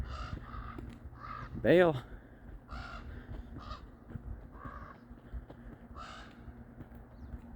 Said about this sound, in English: Or the crows will say, hey, get out of here.